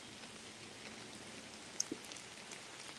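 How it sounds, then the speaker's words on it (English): Scattered raindrops patter faintly on a hillside at the Culp's Hill battlefield in Gettysburg, a soft steady wash of rain with a couple of slightly louder individual drops standing out. "Rain drops."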